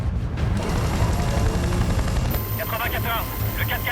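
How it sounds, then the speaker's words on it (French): A helicopter closely pursuing a vehicle in an action film chase: a loud, sustained rotor roar that fills the scene, with shifting engine noise and brief higher chattering sounds late on. "On a un hélicoptère qui nous colle au train maintenant!"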